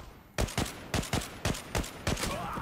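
Gunfire in the online shooter Zula comes as bursts of sharp, loud shots, about eight in quick uneven succession, each with a short tail, and no one talking over them.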